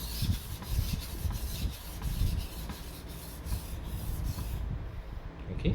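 A chipped knife blade is worked lightly back and forth on a whetstone in quick push-and-pull strokes, a close, repeated scraping rasp that comes in a steady rhythm.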